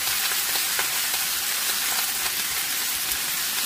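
Bottle gourd with a hilsa fish head cooks over high heat, giving a steady, close hiss and sizzle with faint crackles throughout and no talking.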